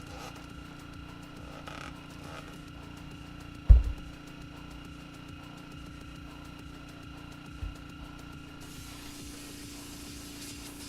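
An airbrush sprays blue paint in a test pass, a steady close hiss that starts late and runs to the end, after a low background hum and a single dull knock.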